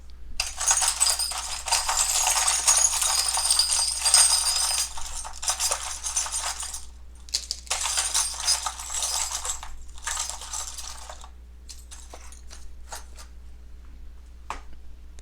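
Small metal charms clink and rattle in bursts with brief pauses as they are shuffled, a shuffling jingle that stops, then scattered light taps near the end.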